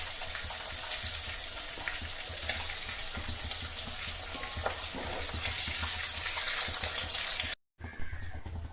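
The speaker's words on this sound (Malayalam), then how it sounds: "നമ്മുടെ ചിക്കൻ എല്ലാം വറുത്ത് കോരുന്ന ലാസ്റ്റ് സ്റ്റേജാണ്" Chicken deep-frying in hot oil, a dense continuous sizzle and crackle that carries loudly for most of the clip before cutting out briefly near the end.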